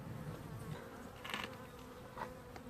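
Honeybees buzz steadily inside an opened hive during a swarm inspection, a dense continuous drone close to the ear, with a few louder swells as insects pass nearby.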